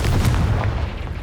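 A Confringo spell in Hogwarts Legacy lands as a single deep, booming explosion, loud and close, with a rumbling low tail that fades over about a second.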